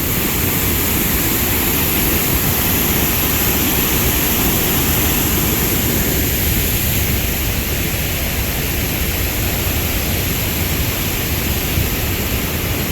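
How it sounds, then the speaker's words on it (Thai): A forest stream near a waterfall rushes steadily and loudly, a constant broadband wash of flowing water with no pauses or voices. "อันนี้ลำห้วยเซกตาม ไหลไปบรรจบกับห้วยตรวจ"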